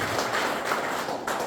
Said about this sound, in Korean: 다 같이 MG를 위해서 박수 한번 치겠습니다